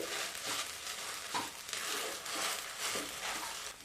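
Sabudana khichdi stir-fried in a pan for a Mahashivratri fast, with a soft continuous sizzle and repeated scraping stirs of a spatula, close and steady, no talking.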